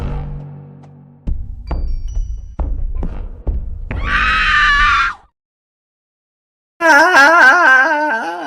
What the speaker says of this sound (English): I love the scream.